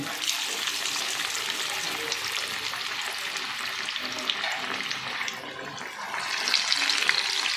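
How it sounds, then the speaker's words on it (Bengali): Chicken pieces coated for a Lays chicken fry hiss and crackle in hot oil in a wok, a dense steady sizzle close by that grows a little louder near the end. "তেলটা কিন্তু গরম হয়ে গেছে এবার আমি তেলের উপরে দিয়ে দিচ্ছি"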